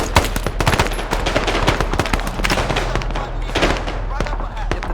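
Rapid bursts of machine gun fire in an Arma 3 Vietnam battle, dense and loud, with sharp cracks and scattered gunshots layered throughout, over a constant low rumble.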